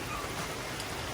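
Steady rain falls outdoors, a dense continuous hiss of drops on surfaces that stays even and fairly close for the whole stretch, with no voices.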